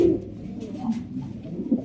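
Pakistani Teddy pigeons coo in soft, low, rounded phrases close by, several throaty calls repeating over a couple of seconds with no talk.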